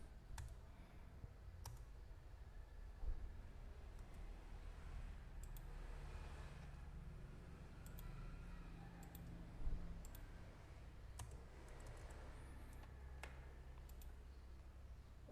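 Laptop keyboard keys are pressed one at a time during a function test, giving faint, scattered clicks with irregular gaps over quiet room noise, and a couple of slightly louder taps.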